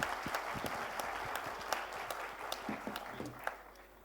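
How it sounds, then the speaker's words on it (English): A conference audience of CA students applauds a paper presenter, producing dense, lively clapping from a crowd with scattered sharp individual claps, steady throughout and tapering slightly at the end. "Let's give her a big round of applause"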